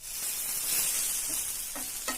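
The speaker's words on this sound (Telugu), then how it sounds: "ఈ కాకరకాయ ముక్కల్ని కలుపుతూ ఉండాలి" Bitter gourd pieces fry in a pan and are stirred, producing a continuous bright sizzle close by, with a couple of short scraping stirs near the end.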